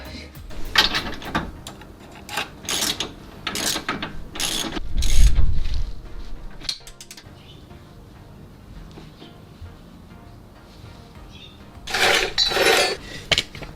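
Ratchet socket wrench clicking in short bursts while tightening a lower control arm bolt on a Suzuki Every DA64V van with 170,000 km on it, with a heavier clunk midway and a final louder run of ratchet clicks.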